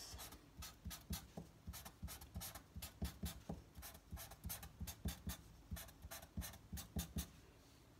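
A pencil scratches crisscross lines on paper during a grade 3 doodling art lesson, a steady run of short, close, rhythmic strokes repeating for several seconds with no talk.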